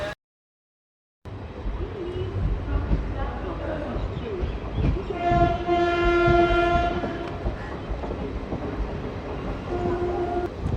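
A train rumbles and clatters steadily as it pulls out of Katwa Junction, with a long horn blast sounding mid-way; a brief silence at the start before the noise begins.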